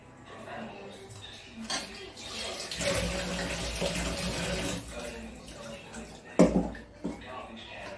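Fish roe rinsed under a running kitchen tap, a steady gush of water with clinks of a bowl or utensil and a louder splash near the end, with someone talking over it.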